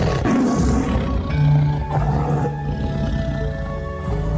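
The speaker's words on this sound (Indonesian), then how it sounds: "dari kandang macan, terdengar suara harimau yang mengaum" A tiger roars from its cage in an audio drama scene, a loud, deep, sustained growling roar with rumbling swells, heard alone without talk.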